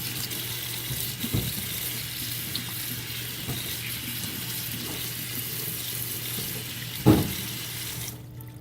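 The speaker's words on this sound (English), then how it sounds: "let's wash this aloe vera." Tap water runs steadily over fresh aloe vera leaves at a sink as they are washed, a continuous close hiss with a couple of sharper knocks and splashes partway through.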